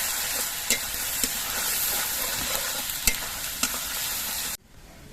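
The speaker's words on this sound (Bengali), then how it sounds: "এবার এর মধ্যে আমি পেঁয়াজ বাটাটা দিয়ে দিচ্ছি তো এই পেঁয়াজ বাটাটা কিছুক্ষণ ভেজে নিতে হবে" Onion paste fries in a pan for doi katla, giving a loud, steady sizzle with occasional scrapes of stirring, and it drops off abruptly near the end.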